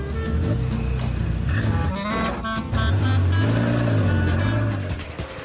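A Ferrari F40 supercar drives over speed bumps, its engine roaring loud and close with a continuous growl that rises and shifts in pitch as the revs change.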